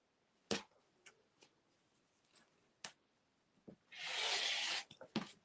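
A rotary cutter trims the selvage off Christmas fabric with a single close, smooth rolling swish lasting about a second, surrounded by scattered light taps and handling clicks.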